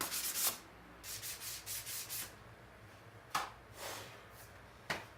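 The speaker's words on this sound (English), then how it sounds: "Now I'm gonna sand this down with 220 and get ready to go down through the grits" A wooden cutting board is being sanded by hand with 220 grit sandpaper, making rough, airy rubbing strokes in quick bursts at first, then a few separate longer passes, close up with no voices.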